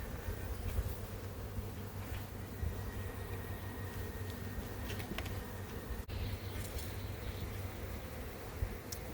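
Carniolan honey bees swarm around an open hive with a steady, dense buzzing that holds close and loud throughout, as workers build comb on the frames.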